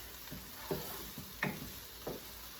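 Garlic cooks in a non-stick skillet with a soft, steady sizzle. A few light stirring scrapes break in at intervals. The sound is faint and close, with no voices.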